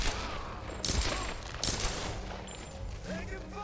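Gunfire in the Tomb Raider video game: a couple of loud bursts of shots over a noisy battle soundscape, with a voice talking underneath.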